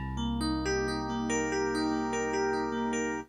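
Warm Fender Rhodes electric piano tones ring out in a steady sequence of chords, each attack bright and bell-like before decaying, played alone and close.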